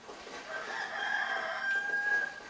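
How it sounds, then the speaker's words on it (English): A rooster crows from a sound-effects record, giving one drawn-out, fairly faint call that rises and holds its pitch before trailing off. "I thought at first that was a sound effects record that was just playing rooster sound."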